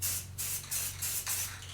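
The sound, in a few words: spray paint being sprayed on a wheel rim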